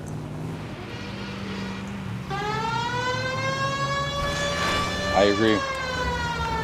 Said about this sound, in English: time for the siren, don't you think?